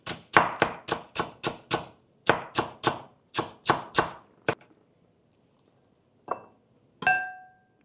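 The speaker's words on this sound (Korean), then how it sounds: "대파 한 대 흰 부분만 곱게 다져주시고요" A knife chops finely through the white part of a green onion on a cutting board, about fifteen sharp rapid strikes in quick bursts, close and clear, then a pause and a couple of light clinks.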